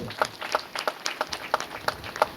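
An audience at a spiritual gathering claps in thanks, a fairly soft and slightly ragged patter of hands with regular beats, heard at a moderate distance over a light room murmur.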